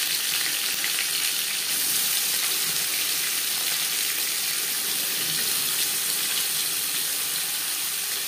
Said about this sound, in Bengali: 3 চামচ সরষের তেল গরম করে নেওয়ার পর দিয়ে দেবো পনির